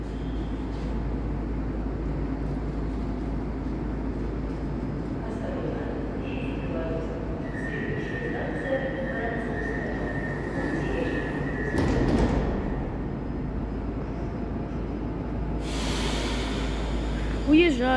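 A Moscow-type metro train departs Novatorskaya station on the Big Circle Line. There is a steady rumbling hum with rising electric whine tones and a brief burst of rail noise, plus close breathing by the recordist.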